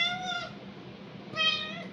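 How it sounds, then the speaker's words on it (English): A house cat meows twice, close and clear, with a short tonal call at the start and a second, slightly louder one a second later, over quiet room noise. "Let me get the cat."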